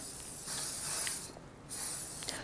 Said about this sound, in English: I'm just going to spray this over the back of my stencil